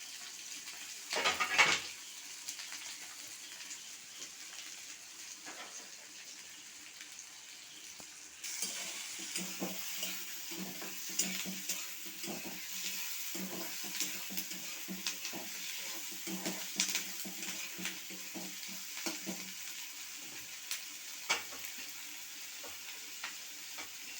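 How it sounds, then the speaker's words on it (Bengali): Onion and green chillies frying in oil sizzle steadily for a Bengali rui fish finger recipe, quieter at first and then louder and busier, with a spoon stirring and scraping the pan throughout. "তেল দিয়ে প্রথমে পেঁয়াজটা আমি দিয়ে দিলাম পেঁয়াজ আর কাঁচা লঙ্কা"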